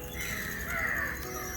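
A crow caws once in a drawn-out, harsh call, fairly close, over a steady background hum.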